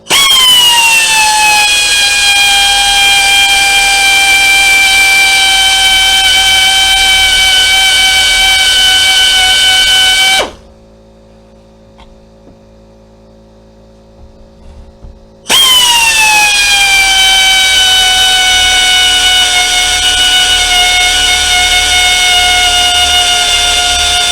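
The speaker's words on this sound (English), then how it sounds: "And there, we made it through the hole on it" A loud, steady high-pitched whine of a power drill boring through metal, running continuously, cutting off for several seconds, then resuming at full strength.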